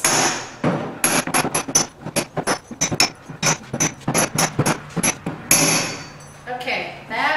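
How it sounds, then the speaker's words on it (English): A hammer strikes a wooden outdoor tabletop repeatedly to dent and weather it, sharp close knocks landing in an irregular rhythm with brief pauses. "just kind of make dents here and there so that you kind of get the same consistent pattern going all the way over the tabletop"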